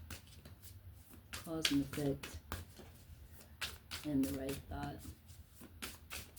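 A deck of cards riffled and shuffled by hand in two bursts, soft flicking clatters close by, with a person talking over and between them.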